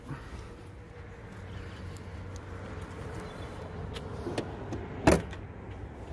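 A 2019 Ford Mustang GT's power window motor hums briefly as the glass rises back up after the door opens, a soft whir over low ambient noise, ending in a short sharp thump.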